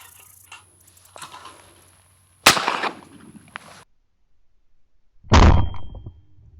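Two sharp, loud shotgun blasts at skeet targets outdoors, each a sudden crack followed by a short rumbling decay, the blasts about three seconds apart and separated by quiet.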